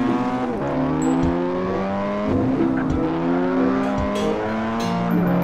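Car driven in a roleplay video game, its engine note rising and falling through repeated gear shifts, with occasional tire squeal, steady and close with no talk.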